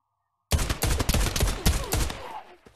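Rapid, loud 1911 pistol gunshots fire in the video game Pavlov, about eight sharp close bangs in quick succession followed by fading reverb, with no talk.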